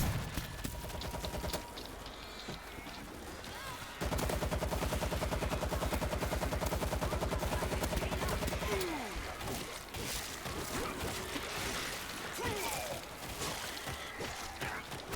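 Sustained rapid gunfire from a World War Z shooter game, dense bursts running almost continuously with a louder stretch in the middle, partly under in-game noise and voices.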